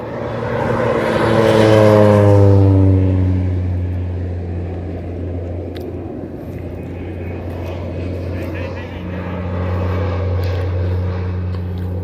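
A crop-spraying propeller airplane passes over an orange orchard in Israel, its engine drone swelling loud and close, then easing into a steady distant rumble while people talk nearby.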